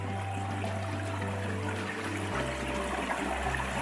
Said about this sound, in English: Lots of water flow.